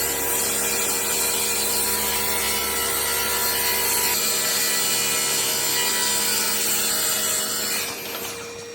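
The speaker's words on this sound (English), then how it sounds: "I cut the tabletop to the size I wanted using my punch saw" A punch saw cuts a wooden parquet tabletop to size, a loud, continuous close-up cutting roar with steady abrasive grinding that thins out and fades near the end.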